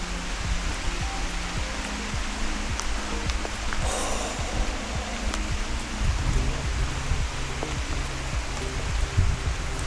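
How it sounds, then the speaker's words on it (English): Heavy rain falls while cycling on a British road, a steady dense hiss of rain and wind noise that fills the whole stretch with no pauses and no voices. "this rain is just going through me"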